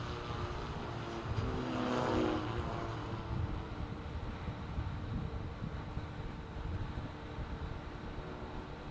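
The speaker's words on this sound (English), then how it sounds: "The cars are completing their outlap." Volkswagen Polo race cars on their out lap at the MRF MMSC Polo Cup, a steady engine drone from a distance with one pass swelling around the middle, no voices.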